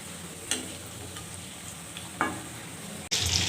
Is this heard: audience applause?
no